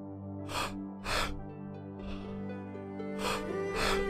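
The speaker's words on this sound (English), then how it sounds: "Keep breathing." Deep, forceful breaths in a guided breathwork class, four strong rhythmic inhalations and exhalations close up over a steady sustained musical drone.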